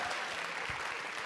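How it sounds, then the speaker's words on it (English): An audience claps for panelists at a music and technology talk, a dense, steady round of applause from a crowd, fairly distant and subdued. "Can we give another round of applause for our panelists?"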